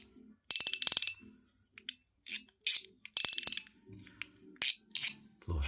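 A multiple-track mechanical slider snapping through its detents in quick bursts of sharp, crisp clicks, several rapid runs separated by single louder clicks, close and isolated.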